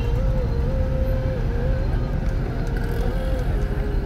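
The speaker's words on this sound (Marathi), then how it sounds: "ट्रॅफिकच ट्रॅफिक इथे" Steady, loud night traffic on Tilak Road at a busy Pune corner: a continuous rumble of cars and motorbikes with an engine drone, no gaps, heard up close.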